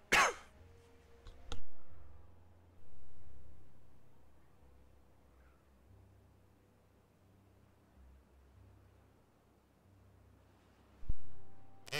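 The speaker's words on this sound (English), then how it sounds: "Sorry about that cough." A single sharp cough near the start is followed by a couple of fainter throat sounds, with quiet background and another brief burst near the end.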